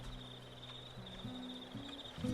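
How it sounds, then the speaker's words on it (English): A steady, faint insect chirring drones at one pitch in the background, while low sustained tones shift beneath it. "the chirping of a few cicadas"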